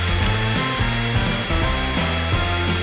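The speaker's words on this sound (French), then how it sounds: "j'ai besoin d'un sèche-cheveux pour faire fondre la peinture des Skittles" A hair dryer roars close and continuously as it melts Skittles candy paint on a cake, with a steady broadband whoosh and a slight wavering hum.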